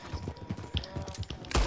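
Rapid bursts of video-game gunfire rattle off in a fast, uneven string as a player shoots another player's horse, with one louder blast near the end.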